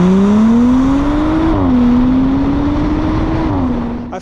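A 2024 Audi S4 on winter wheels and tires accelerates hard, its engine note climbing steadily and loud, with a quick shift dip before pulling on again, no talking over it.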